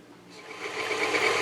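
An electric mixer runs on low speed, whipping organic cream in a bowl: a close, steady whir that grows slightly louder and rougher as it goes, with no one talking.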